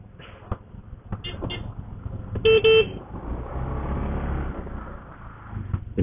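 Cars idle and creep in a queue outside a crowded food spot with limited parking, heard from a motorbike, with steady traffic rumble and a couple of short, loud horn toots midway.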